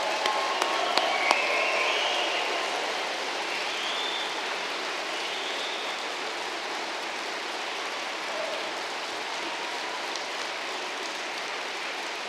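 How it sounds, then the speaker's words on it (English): A large crowd applauds steadily at a university degree ceremony, a dense, even wash of clapping that holds without pause. "giving you a huge round of applause for your achievement"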